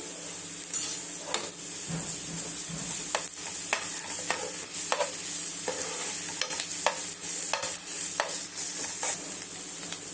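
A spoonful of ginger garlic paste fries in a pan for an egg gravy. A steady sizzle runs throughout, and repeated sharp scrapes of a spoon stirring against the pan break through it.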